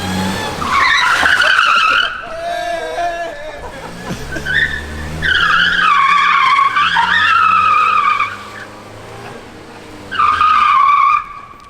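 A car slides under the e-brake with loud, wavering tire squeals in several long bursts, close by and harsh, with engine noise beneath and people's voices in between.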